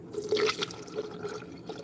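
Automotive paint pours into a painter's funnel on a spray gun, a soft, close trickle with a few brief splashy surges, faint and without speech.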